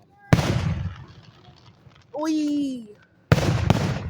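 Fourth of July fireworks burst loudly at a short distance, two sharp booms with crackling decay framing a whistling rise, while a child squeals between them.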